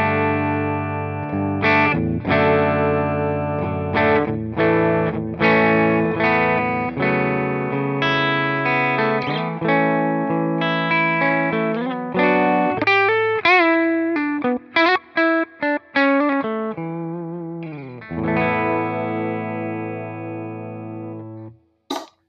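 An Eastman T486 electric guitar on its bridge pickup plays chords and single notes with a bright, driven tone, ringing out and pausing briefly near the end, loud and alone.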